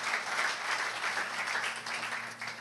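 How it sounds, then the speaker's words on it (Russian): Congregation at a church sermon applauds Denis, a soft, fairly distant wash of clapping that holds steady for a couple of seconds under a faint low hum. "Окей, давайте воздадим Денису аплодисменты."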